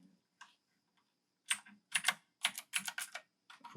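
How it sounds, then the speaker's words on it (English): Keys pressed on an AJazz AK50 budget mechanical keyboard: a few isolated clicks, then a quick burst of close, crisp clacking keystrokes in uneven clusters. "let's hit function page up again"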